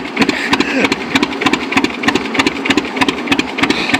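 A John Deere G tractor engine runs steadily nearby with a rapid, even two-cylinder popping rhythm, loud and continuous throughout with no talking.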